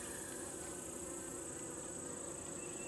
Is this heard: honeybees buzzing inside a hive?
yes